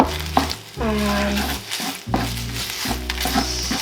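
Vegan egg sizzling and being stirred in a frying pan, a steady close-up fizz with repeated scraping stirs and tonal clatter in between.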